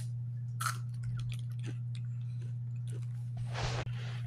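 Seasoned breakfast potatoes from Jack in the Box are chewed close to the mic, giving soft crunchy bites over a constant low electrical hum.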